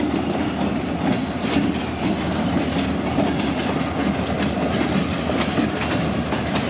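A short Escanaba and Lake Superior Railroad freight train rolls past close by with a steady rumble and rhythmic clickety-clack of wheels over rail joints, loud and continuous throughout.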